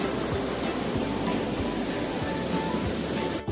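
Steady, dense roar of water pouring down at Dassam Falls, a broad waterfall rush that holds constant and loud throughout with no voices, ending in a brief dip and a light knock.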